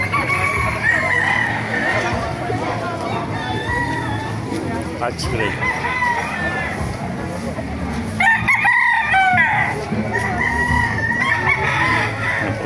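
Chickens and roosters at the Calumpit market in Bulacan, with several loud crows and clucking over a busy background of people talking nearby.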